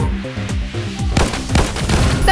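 Rapid gunfire from a VR zombie-mode shooter video game rattles in quick bursts, loud overlapping shots and booms stacking close together, growing denser toward the end with no talk over it.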